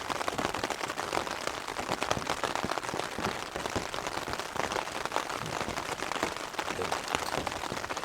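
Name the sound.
rain falling on a mountain campsite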